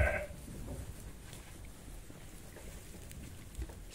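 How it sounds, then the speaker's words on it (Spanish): A young lamb gives one short bleat right at the start, then only quiet outdoor ambience follows. "Este es una corderina."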